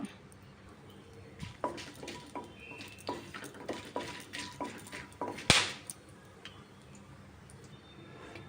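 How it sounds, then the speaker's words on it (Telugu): Whole spices and bay leaves fry in hot oil for bagara rice, including cinnamon, cloves, cardamom, star anise and shahi jeera. Soft sizzling sits under irregular ticks and taps of a spoon against the pan, with one sharp metallic clank near the end. "ఆయిల్ హీట్ ఎక్కిన తర్వాత మసాలా దినుసులని వేసుకోవాలి."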